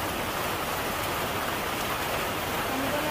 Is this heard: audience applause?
no